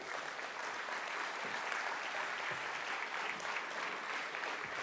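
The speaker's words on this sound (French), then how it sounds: "je vous remercie d'applaudir les membres des conseils syndicaux" A conference room full of people claps steadily, a dense even patter of applause at moderate distance with no voices.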